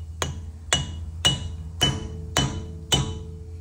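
Six evenly spaced, sharp metallic hammer blows drive a cover onto the axle nut of a Mercedes GLB 250, loud and close with no talking.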